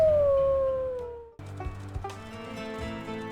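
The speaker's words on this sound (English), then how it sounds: "I might do some howling anyways, and just hope that they don't come." A wolf in the WolfQuest video game lets out a long, loud, falling howl that fades into silence, followed by softer whimpering and yipping sounds.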